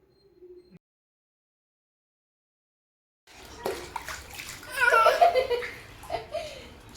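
A child splashing and playing in bathwater at home, busy splashes and water movement bursting in after a long silence, with giggles and small voice sounds mixed in.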